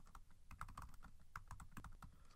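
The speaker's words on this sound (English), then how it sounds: "We're going to type" Rapid clicking keystrokes on a computer keyboard, steady and close, with irregular bursts of quick taps and no voices.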